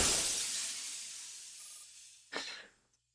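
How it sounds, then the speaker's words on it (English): A gunshot shatters a glass screen: a loud hiss of breaking glass that fades away, followed by a second short, sharp crash and silence. "The commander's shot shatters the screen"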